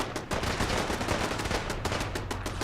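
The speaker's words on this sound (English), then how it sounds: "I hear gunfire. Lots of it. And it sounds like a laser pistol, like the one I use." Rapid laser pistol fire and turret shots in Fallout 4, dense overlapping bursts crackling continuously at close range, loud and unbroken with no talk over them.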